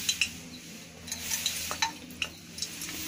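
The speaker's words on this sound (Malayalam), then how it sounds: "ഇതിലേക്ക് ഞാൻ ചേർക്കാൻ പോകുന്നത് ഗ്രാമ്പും ഏലക്കയും നമ്മുടെ കറുവപ്പട്ടയാണ്" Cloves, cardamom and cinnamon sizzling in hot olive oil in a pan, a soft steady fry with occasional sharp crackles and a few light stirring clinks.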